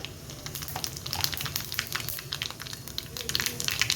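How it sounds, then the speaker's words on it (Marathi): Close crackling and spattering of mustard seeds and cumin sizzling in hot oil in a wok, a dense run of quick pops over a low background hum. "मी कढईत तेल तापून घेतले आहे त्यामध्ये मोहरी"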